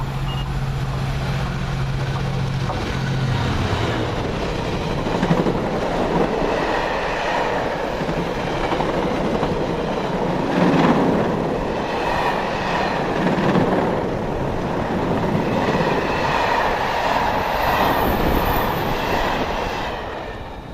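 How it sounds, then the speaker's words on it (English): A passenger train rumbles into Shildon station with a steady rolling roar, wheels clattering over rails and occasional squeals and knocks as it draws close and slows. "Here comes our train now"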